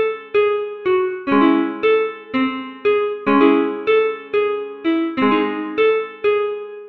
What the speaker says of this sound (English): Check out the guitar. It's one of my favorite right here out of this demo pack,